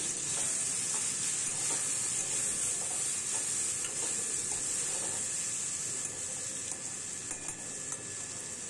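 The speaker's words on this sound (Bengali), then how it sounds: "এটাও আমি ভালো করে তেলে আলুর সাথে মিশিয়ে নিচ্ছি।" Diced potatoes and chopped tomatoes frying in oil for a vegetarian sabudana polao, a continuous even hiss and sizzle with faint scattered stirring taps throughout, no talk.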